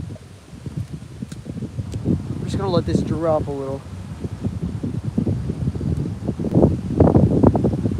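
Strong wind gusts over a private pond during bass fishing, a loud, steady buffeting rush across the microphone that swells toward the end, with someone talking briefly over it.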